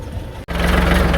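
A farm tractor idles close by with a steady, low, rumbling drone, broken by one very brief dropout near the start.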